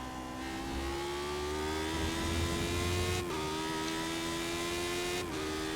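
A Lotus 79 race car in iRacing drones at high revs, the engine pitch climbing steadily and then dipping sharply at each of two gear shifts, loud and continuous with no talking.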